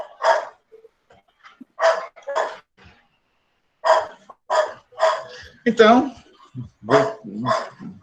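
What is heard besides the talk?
dog barking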